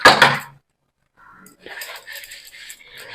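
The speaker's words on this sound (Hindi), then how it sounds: "तो बर्तन अभी साफ कर लेते हैं।" Dishes and pots being washed at a home kitchen, a burst of clattering utensils up front, a pause, then lighter clinks and rinsing clatter close by.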